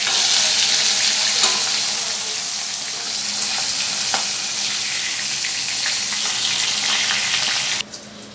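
Flipped boal fish pieces frying in oil, a continuous close hiss and sizzle with faint scattered pops, steady for several seconds before dropping suddenly near the end.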